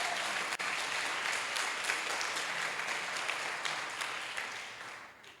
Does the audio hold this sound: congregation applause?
yes